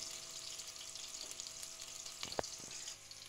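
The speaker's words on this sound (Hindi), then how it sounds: "मैंने एक प्याज लिया है, हल्का इसको हल्का सा ब्राउन करना है।" An onion browns in a pan with a steady, close broadband sizzle throughout, joined by a brief, louder knock or scrape near the end.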